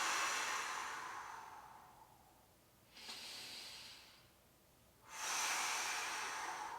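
Deep breathing during a half-kneeling hip flexor stretch: a long fading exhale, then a shorter breath, then another strong airy breath, close and unvoiced.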